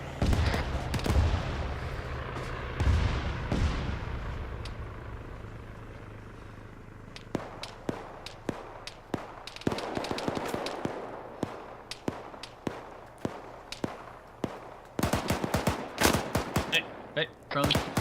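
Combat in a military video game, heavy booming blasts at first, then a long stretch of sharp gunshots and rattling bursts at varying distances, ending in a dense flurry of fire, with voices talking in between.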